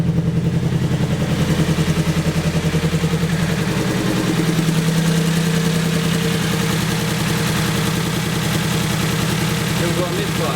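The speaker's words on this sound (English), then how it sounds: "Still got a misfire." Engine idling unevenly with a spark plug misfire, a steady loud low rumble with irregular stumbling pulses throughout, no talk over it.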